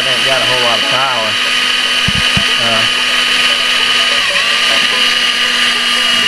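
An older cordless drill running on a worn, weak battery gives a steady, thin motor whine that holds at one pitch throughout, with a voice talking over it in the first few seconds.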